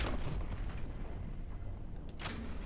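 Gunfire in the video game Warhammer 40K Boltgun, heavy booming bursts with a dense rumbling tail, loud and close, with a sharp burst near the end and no talking.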